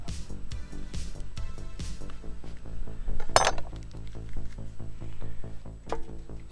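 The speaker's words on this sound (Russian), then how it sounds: "Берем перец, разрезаем пополам, достаем отсюда сердцевину." Knife cutting through a bell pepper on a board and scraping out its core, a rapid run of close, crisp clicks and taps with one louder rustling crunch midway, no talking.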